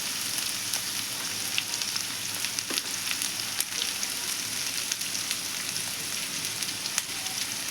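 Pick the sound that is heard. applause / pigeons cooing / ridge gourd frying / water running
ridge gourd frying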